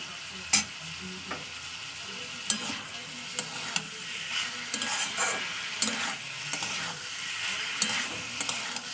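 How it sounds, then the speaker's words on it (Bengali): Meat sautéing in oil in a pan as the spices dry out, with a constant sizzle and repeated sharp spoon clinks and scrapes as it is stirred, close and clear with no talking. "আমার মাংস কষাতে কষাতে মাংসটা তেল ছেড়ে এসছে"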